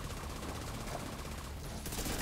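SMG gunfire in the video game Division 2, a dense, sustained rattle of rapid shots that stays steady and fairly loud for a couple of seconds, with no talking.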